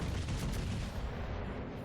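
Naval gunfire in World of Warships: Legends, a continuous rumbling barrage of distant heavy guns and booms, broadband and dense, fairly faint and without talk.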